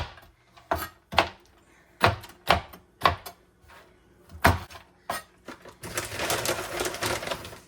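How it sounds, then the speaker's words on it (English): Almonds being chopped for an apple, broccoli and cauliflower salad, with about ten sharp, separate knife knocks on a cutting board, followed by a denser stretch of rapid chopping and scattering, close and fairly loud. "So I want to cut these up a little bit."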